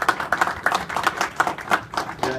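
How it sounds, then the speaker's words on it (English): Scattered clapping from a small group after a college hockey postgame session, sharp irregular hand claps in quick succession, close and fairly sparse. "A round of applause."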